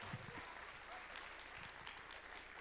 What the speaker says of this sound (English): how about another round of applause for that period?